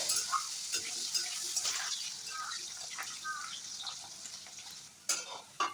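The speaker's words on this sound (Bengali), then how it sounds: "আলু ভালো করে ভেজে নিতে হবে" Potatoes frying in oil in a pan, a steady bright sizzle with occasional scraping stirs and a louder clatter near the end, heard up close.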